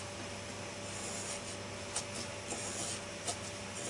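A compass pencil drags across paper while drawing an arc, giving a steady, faint scratchy rubbing that runs throughout with no talking.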